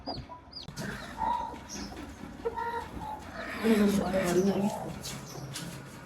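Hens and chicks cluck and chirp close by in soft, irregular bursts, with people talking over them.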